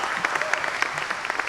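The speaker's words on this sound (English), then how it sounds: "So, give them a round of applause." Brief audience applause at a high school League of Legends event, a short patter of clapping from a modest crowd, fairly soft and steady with faint voices beneath.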